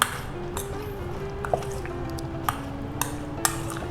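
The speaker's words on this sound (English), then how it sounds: "So give it a light mix" Fruit salad being gently stirred with a yogurt and honey dressing in a bowl, soft wet squishing under a low steady hum, with a few light clinks of a spoon against the dish.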